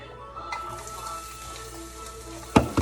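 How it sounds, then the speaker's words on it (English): Onions dropped into a hot pan, with scallions following, for Thai pineapple fried rice. A steady, soft sizzle hisses throughout, and a louder clatter and scrape near the end suggests ingredients hitting the pan or being stirred. "I'm going to add some of the onions in the pan"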